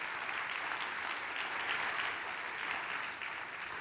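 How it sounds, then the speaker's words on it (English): Audience applause at a PBIS leadership forum, a steady wash of many hands clapping together, fairly distant and even in level, with no voices over it. "I just want to have everyone give a huge applause"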